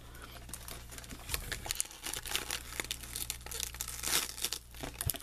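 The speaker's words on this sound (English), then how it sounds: "The tape will come off." Packing tape being peeled and pulled off a plastic toy package holding a Scooby-Doo plush, with close crinkling, tearing and crackling bursts in an uneven rhythm.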